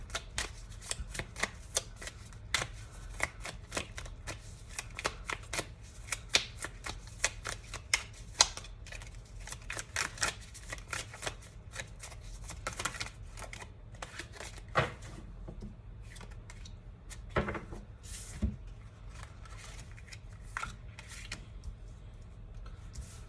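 Tarot cards being shuffled by hand, a soft, close series of papery riffles and sharp flicks coming in uneven bursts with short gaps, quiet and without talk.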